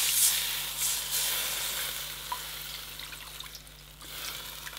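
Water poured into a still-hot kitchen pan to loosen burnt residue, giving a soft steady sizzle and hiss with faint watery splashing, fading slightly toward the end.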